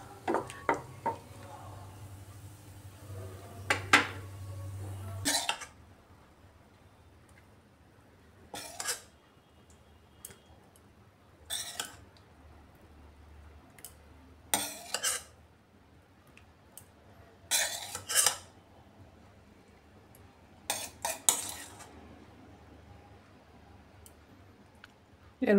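Tandoori egg curry with a pinch of garam masala stirred in a pan and spooned onto a serving plate, heard as separate bursts of clinking, scraping utensil sounds with quiet pauses between them.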